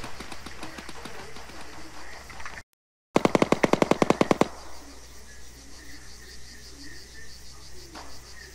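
Sustained machine gun suppressive fire in the military video game Arma 3: a rapid string of about a dozen sharp, loud shots bursts out after a brief dropout, with distant crackling gunfire and faint voices around it.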